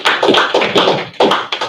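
A small group at a county industrial development agency board meeting gives a round of applause, sparse, close, uneven hand claps in short irregular bursts rather than a full roaring ovation.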